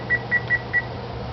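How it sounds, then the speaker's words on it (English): A kitchen timer being set gives four short, sharp electronic beeps in an even rhythm, close by over a low background hum. "Put the timer on again for another 20 minutes to remind myself"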